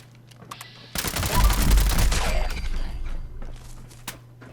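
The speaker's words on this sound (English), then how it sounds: "Fires too fast. The game doesn't register all the bullets, I noticed." Rapid automatic fire from a three-star legendary gun in Fallout 76 rattles out as a dense, loud burst of about two seconds, then trails into scattered faint clicks and thumps.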